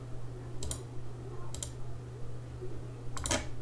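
Three separate mouse clicks sound during a software driver installation for a 3Dconnexion SpaceExplorer, each short and crisp, the last a quick double, over a low steady computer hum.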